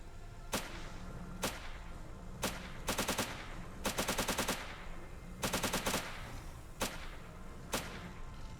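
Gunfire in the first-person shooter video game Fate of the Zone comes as sharp single shots mixed with rapid bursts of several rounds in an uneven rhythm. It is fairly faint and heard alone, with no speech.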